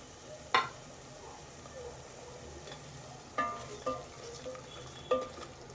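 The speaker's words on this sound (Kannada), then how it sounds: "ಈಗ ನಾನೇನು ಟೊಮ್ಯಾಟೊ ಪೇಸ್ಟನ್ನ ಮಾಡ್ಕೊಂಡಿದ್ದೀನಲ್ಲ ಅದನ್ನು ನಾನು ಇದಕ್ಕೆ ಆ್ಯಡ್ ಮಾಡ್ಕೊತಾ ಇದ್ದೀನಿ." Tomato paste made from ginger-garlic paste and green chilli sizzles in a pan of roasting spices for dhaba-style chana masala, with a steady low fry broken by a few sharp stirring scrapes.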